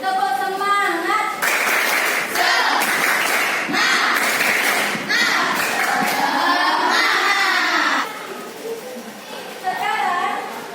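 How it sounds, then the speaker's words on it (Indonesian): A class of schoolchildren performs a rhythmic spirit clap with a teacher, loud patterned bursts of clapping mixed with children's chanting and shouting voices, pausing briefly before a final burst. "Tepuk semangat"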